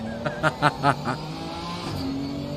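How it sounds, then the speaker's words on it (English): A race car engine at a British GT race at Donington revs up in several quick bursts, then settles into a steady hum with a rising whine toward the end. "Look at the sound of the car."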